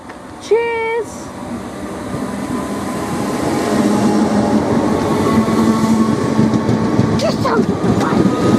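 A train passes through Bosham station, opening with a short tonal horn-like whine, then a rumble that swells and stays loud and close as the carriages roll by.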